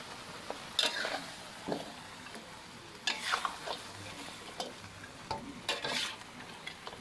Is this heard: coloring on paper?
no